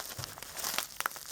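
Adhesive tape being peeled and torn off a PEZ dispenser package, a few short crinkling rips and crackles in quick bursts, fairly close and fairly quiet, with no talking.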